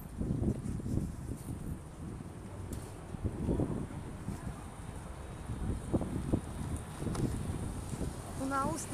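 Gusty wind buffets the microphone with low rumbling bursts throughout, while a voice speaks underneath.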